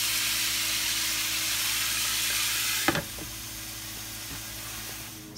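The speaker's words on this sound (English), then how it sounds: "I will cover this now and let it cook with the steam." A covered pot of beef and green bananas steams on the stove with a constant soft hiss. A single knock sounds partway through, and then the hiss continues more quietly.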